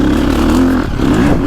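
A 2025 KTM 350XCF motocross bike engine revving loud and close, a deep barking roar that holds steady, dips briefly, then climbs again, with no voices.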